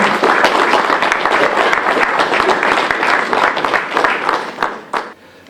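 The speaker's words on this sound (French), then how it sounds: "un applaudissement pour M. Bernard Desmontil, la Coupe des 10 cette année" A crowd applauds at a horse racing event in Ecommoy, France: steady, loud clapping from many people outdoors, holding for several seconds before fading away.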